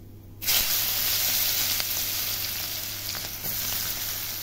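Onions dropped into hot oil with turmeric and a torn bay leaf, a sudden burst into loud, steady sizzling with occasional crackles, close and without talk.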